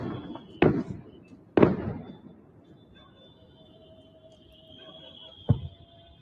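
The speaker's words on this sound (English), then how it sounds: "that was just a bunch of explosion sounds, not much there" Explosions played back from a video, three sharp booming blasts spaced a few seconds apart, each decaying into a low rumble over a faint steady hum.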